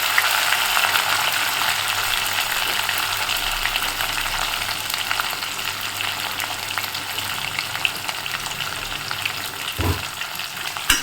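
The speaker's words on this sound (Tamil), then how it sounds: "இதை நல்லா வதக்கி விட்டுக்கணும்" Onions sauté in a pan with a constant bright sizzle and crackle, close and steady, with an occasional scrape or knock of stirring near the end and no voices.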